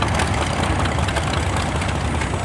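A tractor engine bogs down at a tractor show, a heavy low rumbling drone that stays steady and loud throughout.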